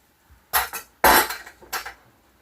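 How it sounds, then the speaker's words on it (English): Knife chopping potatoes into rough one-inch chunks on a cutting board in a home kitchen, three or four sharp, close blade knocks in quick succession, with no talking. "I'm cutting the potatoes up into roughly 1-inch chunks."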